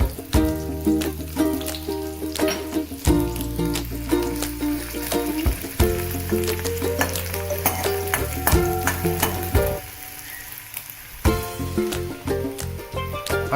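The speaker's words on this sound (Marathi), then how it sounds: "आता इथे तेल तापत ठेवलेलं आहे आणि या तेलावरती हा अर्धा कांदा बारीक चिरलेला घालतोय" Finely chopped onion frying in hot oil, a continuous crackling sizzle with occasional stirring clatter, close and moderately loud, alongside a background hum.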